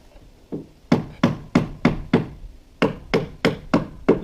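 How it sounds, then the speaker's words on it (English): A hammer taps poly pins into a fascia board, about a dozen sharp, close knocks in two uneven bursts of quick strikes with a brief pause between them. "just make sure that you don't hammer them in too hard"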